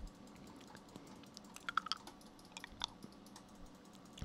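A computer keyboard is typed on in a quiet ASMR setting, giving close, soft bursts of clicking keystrokes in irregular clusters with faint background hiss.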